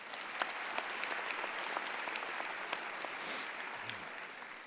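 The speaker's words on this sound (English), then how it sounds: "Give yourself another round of applause." Graduating class applauding at a university commencement ceremony, a steady dense wash of clapping from a large crowd heard at a distance, sustained evenly throughout with no speech over it.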